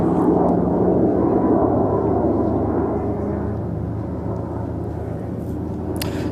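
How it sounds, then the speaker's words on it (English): An RQ-170 Sentinel drone passes overhead with a steady, broad, whooshing roar that stays loud throughout and eases off only slightly toward the end, with no voices. "I'm pretty sure this is one of these RQ-170 Sentinel drones. And it's the weirdest sound."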